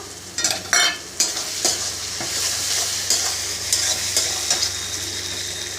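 Onion, large tomatoes and grated ginger fry in a pan for a chicken curry, a close steady sizzle broken by brisk stirring and scraping strokes of a spoon.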